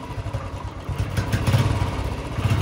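A Royal Enfield Bullet motorcycle engine runs nearby, a low, throbbing mechanical rumble with a steady, slightly uneven thump that swells a little louder partway through.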